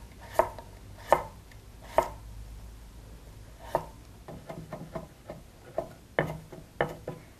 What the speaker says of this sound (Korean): 당근도 양파 굵기로 썰어주면 됩니다